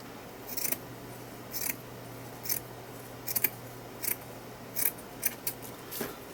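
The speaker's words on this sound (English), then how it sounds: "so I'm going to cut a thin strip" Scissors snip through a thin strip of burlap for a craft project, a series of about nine quiet, crisp cuts spaced irregularly over a faint steady hum, with no talking.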